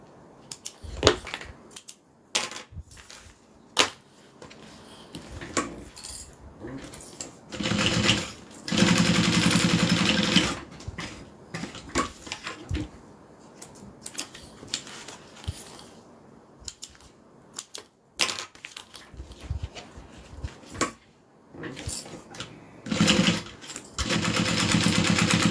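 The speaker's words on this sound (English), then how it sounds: "And I am back stitching when I'm starting and when I'm stopping." A sewing machine runs in short bursts of rapid needle chatter, stopping and starting repeatedly while back stitching, with quieter handling clicks and fabric rustles between runs and no speech.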